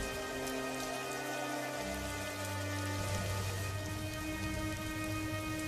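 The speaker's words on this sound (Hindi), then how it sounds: "देखते ही देखते भयंकर बारिश शुरू हो जाती है" Heavy rain pouring down steadily during a storm with lightning and strong wind, a dense constant hiss of drops on surfaces, with a low rumble swelling midway.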